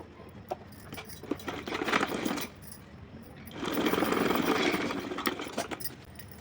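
Sewing machine runs in two steady bursts, stitching fabric strips with even seams for a Laddu Gopal outfit, the motor's close whirr pausing briefly between passes.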